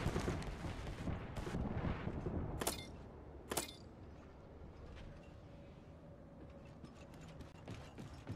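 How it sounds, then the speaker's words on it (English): Fuse's knuckle cluster launcher fires in Apex Legends, with two sharp bright bursts standing out over a noisy rumbling game backdrop, followed by quieter mechanical clatter. "Stand back, knuckle cluster's firing"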